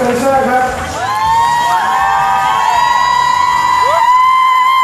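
A lively crowd cheers and whoops loudly at a live event, with rising shouts and whistles layered over steady crowd noise for the whole stretch.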